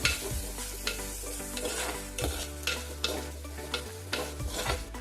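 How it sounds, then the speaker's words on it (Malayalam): Sliced onions for ulli chammanthi frying in oil with salt, stirred repeatedly as they dry out, a steady close sizzle broken by regular scraping strokes of the spoon. "ഈ എണ്ണയിൽ കിടന്ന് നല്ല രീതിക്ക് വരണ്ട് വരുന്നത് വരെ നമ്മളിങ്ങനെ ഇളക്കി കൊടുക്കുക"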